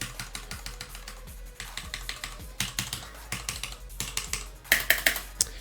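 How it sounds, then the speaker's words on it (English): Steady typing on a Gigabyte mechanical keyboard with Cherry MX Red switches, a rapid run of soft keystrokes with a few sharper clacks toward the end, close up with no talking. "I will demonstrate the clickiness between the two different types of keyboards"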